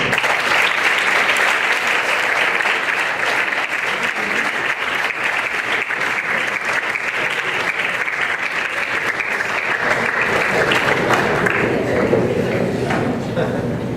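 Sustained, loud audience applause welcoming an economist to the stage at an economics conference, a dense steady wash of many hands clapping for the full duration.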